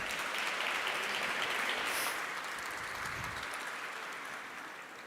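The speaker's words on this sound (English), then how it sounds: "A big round of applause," Soft, distant applause from a panel audience in the Salone dei Cinquecento hall of Palazzo Vecchio, holding steady and then slowly fading.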